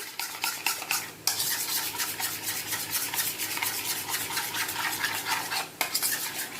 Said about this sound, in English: We're going to just mix everything until thoroughly combined.